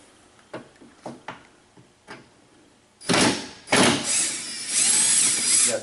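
Cordless power drill backing out T30 Torx screws on a 2008 Chevrolet Uplander's rear light fixture: a few soft clicks, then the drill whirs loudly in two close bursts, running steadily to the end.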